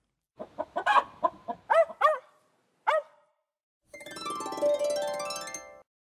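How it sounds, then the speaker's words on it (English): Several short chicken clucking calls in quick succession, followed after a pause by a longer buzzy, harmonic squawk-like sound; fairly close and clear, no talking. "Now Spot doesn't want to play with the chickens."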